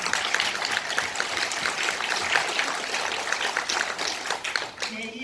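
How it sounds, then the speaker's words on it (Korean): Applause from an audience at a National Assembly launch ceremony for a national festival, a dense steady patter of many hands clapping that continues evenly throughout at moderate loudness, with a voice faintly present beneath it. "박수 주세요"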